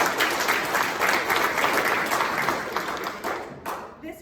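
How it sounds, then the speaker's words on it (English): Audience applause at a graduation ceremony for a CCMA medical assistant program, steady dense clapping from a crowd that tapers slightly toward the end. "I believe that deserves a round of applause."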